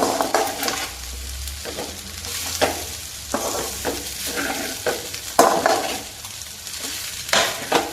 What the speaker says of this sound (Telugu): రైస్ని ఈ విధంగా మొత్తం కలిపేటట్టుగా తిప్పుకోవాలండి